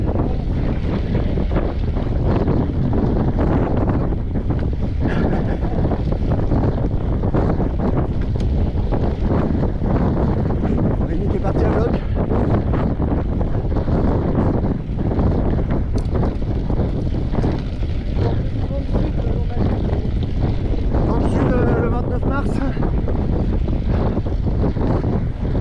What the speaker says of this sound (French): Avec un peu de vent de face aujourd'hui.